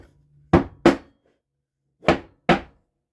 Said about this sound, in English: Give it a couple of taps.